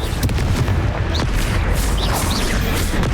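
A Confringo fire spell blast in Hogwarts Legacy on Nintendo Switch, a loud, sustained booming rumble with explosive bursts and faint whistling tones layered over it during a fight.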